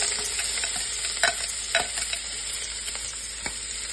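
Chopped onion, carrots and celery sizzle in a pan where the meat for braised short ribs was just seared, a steady close hiss broken by a few soft stirring scrapes, with no voices.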